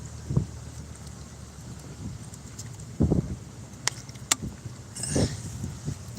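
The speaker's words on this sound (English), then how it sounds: "the wind's blowing a little bit" Wind gusts buffet a microphone outdoors beside a truck on hot Nevada pavement. The low rumble stays steady and fairly loud, with heavier gusts and a few faint clicks and rustles.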